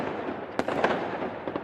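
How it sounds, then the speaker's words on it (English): Fireworks in the video game 7 Days to Die go off as a quick run of sharp pops and crackles, several bursts spaced unevenly over a soft hiss, played alone without talk. "And I did promise you guys fireworks."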